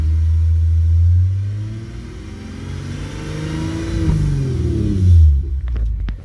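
A Lexus RC350 with an aftermarket PPE header revs steadily, its engine note rising and falling with a deep rumbling drone and a slightly odd, breathy quality, loud and close with no one talking.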